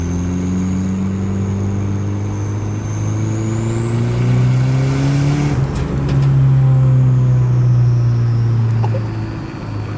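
Nissan 240SX with a turbocharged KA24DET engine accelerating hard under boost, rising engine note climbing through gears with turbo whistle, loud and close as it passes.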